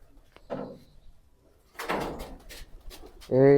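A domestic Siraji pigeon near a loft entry hole gives a short, close, low harmonic coo at the very end, after scattered thumps and knocks that sound like a door or wooden fittings.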